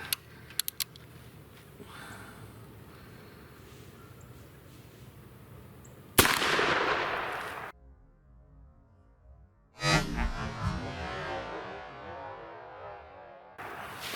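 A Ruger Super Blackhawk .44 Magnum revolver fires outdoors, with a few loud, sharp blasts spaced seconds apart, each trailing off in a ringing decay between quieter stretches.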